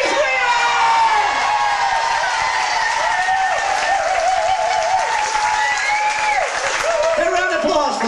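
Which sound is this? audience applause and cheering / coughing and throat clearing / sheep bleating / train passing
audience applause and cheering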